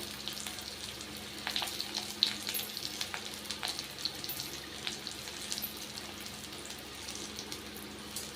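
Chopped onions with cumin and other spices go into oil left over from frying paneer, giving a moderate steady sizzle and crackle with scattered pops and stirring clinks, no talking.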